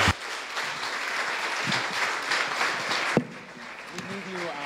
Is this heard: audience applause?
yes